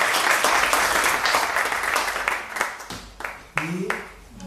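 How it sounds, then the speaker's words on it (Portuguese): An audience at a cultural policy lecture gives steady, full applause that gradually thins out, and a voice begins speaking near the end. "Vou pedir uma salva de palmas."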